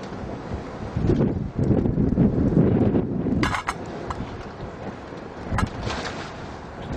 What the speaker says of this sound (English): Still very windy out here.